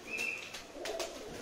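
Madrasi and Punjabi pigeons coo in short, soft calls at close range, a few brief bursts over a steady low background.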